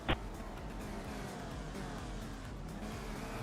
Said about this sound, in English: room full of rookies are all revving the piss out of their engines